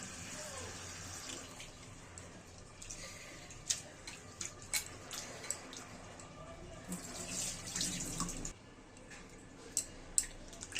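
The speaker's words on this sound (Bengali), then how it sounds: "এখন আমরা এটা ঠান্ডা জল দিয়ে আরো 2-3 বার ধুয়ে নেব" Dried fish is washed by hand in cold water, with faint, close sloshing and splashing plus occasional small knocks, quiet and continuous and with no talk over it.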